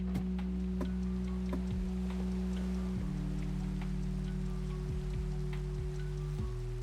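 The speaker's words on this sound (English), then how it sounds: "Raining at nighttime," Night-time rain in Minecraft patters steadily and softly, with scattered drop ticks over a low, even hum of game background tones.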